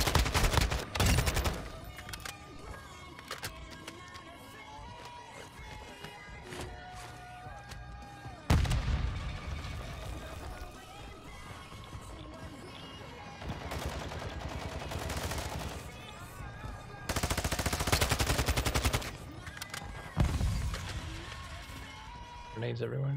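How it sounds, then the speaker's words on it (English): Grenade explosions and gunfire in the shooter Call of Duty DMZ, with several loud blasts and bursts of shooting spread across the stretch amid game noise and players talking. "Grenades everywhere."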